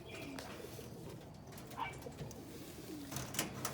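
A pigeon in a loft of rescued and paired birds coos softly several times at close range, with light rustling and faint chirps in the background and no talk.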